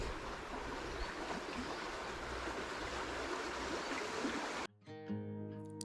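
Ten Sleep Creek in Wyoming rushes steadily over its bed, a close, continuous wash of flowing water that cuts off abruptly near the end, followed by a brief faint tonal sound.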